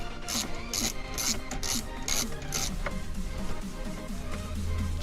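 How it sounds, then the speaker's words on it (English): A ratchet wrench loosens the mounting bolts of a Dynavin 8 Pro car stereo, a rapid rhythmic clicking in short bursts, close by, followed by softer scraping and rubbing. "we're just gonna loosen all these bolts"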